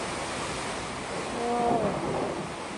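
Typhoon Tino's strong winds roar steadily in a continuous broadband rush, swelling briefly louder midway, with a faint tonal cry or voice-like sound layered in.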